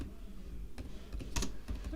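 Keys clatter on a computer keyboard as a search term is entered, a brief run of faint, uneven taps with a quick burst in the middle.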